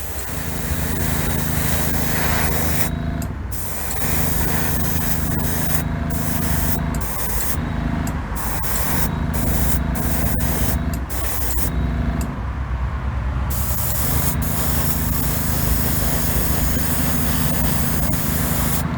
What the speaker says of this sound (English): Right now it's spraying.